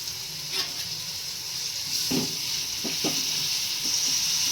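Onions, green chillies and curry leaves sizzle in hot oil in a pan for a fish curry, a steady frying hiss broken by a few short clicks of stirring.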